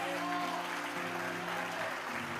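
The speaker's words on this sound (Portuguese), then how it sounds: "Você pode dar uma salva de palmas para essa palavra aqui?" Applause rises from a church congregation at a Portuguese-language teaching service, a steady wash of clapping with voices and tonal sounds mixed beneath it throughout.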